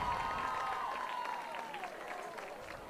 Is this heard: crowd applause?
yes